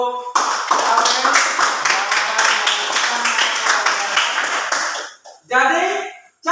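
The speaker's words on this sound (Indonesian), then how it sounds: "mari kita beri aplaus untuk Aurel" A room full of people claps together in sustained, dense applause for several seconds, then it drops away briefly before a short second burst of clapping returns.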